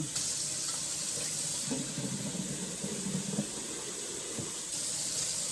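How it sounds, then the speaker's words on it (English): Water runs in a steady hissing stream into a cooking pot, with a slight gurgling swell partway through and no voices. "put a little bit of water in it."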